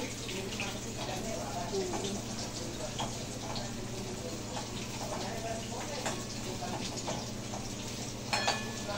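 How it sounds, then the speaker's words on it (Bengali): Potatoes fry in a pan with a constant, crackling sizzle close up. Faint kitchen noise and a voice in the background sit under it. "আলুটা ভালো করে ভেজে নিচ্ছি।"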